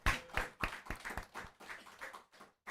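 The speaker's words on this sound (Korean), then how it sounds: "우리 하나님 앞에 우리 영광의 박수 드립니다" A small church congregation claps in praise during a New Year's Eve worship service, about a dozen distinct, fairly close claps in an uneven rhythm that thins out toward the end, with no talk.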